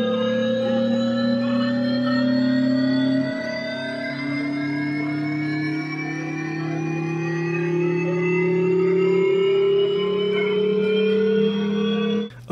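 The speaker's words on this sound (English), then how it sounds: "turn it into a shepherd's tone." A droning sound run through the Corkscrew plugin to form a Shepard tone, steady layered harmonic tones gliding slowly and continuously upward for about twelve seconds before cutting off.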